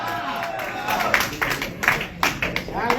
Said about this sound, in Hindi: इसको तालियों की खुराक देते रहना